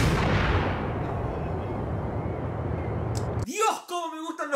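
A rifle shot in a video game booms into a long, dense roar of gunfire that fills the first three seconds at high volume, then cuts off sharply before a voice speaks over the end.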